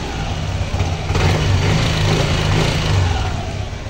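A Yamaha Aerox S scooter engine runs steadily up close, a low, even motor hum with a slight rise partway through, heard alone without talk; the scooter has an ECU code 12 fault.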